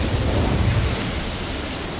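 The Incendio fire spell in Hogwarts Legacy goes off as a loud, dense roaring whoosh of flame, a broadband rush with a heavy low rumble that holds steady for about two seconds.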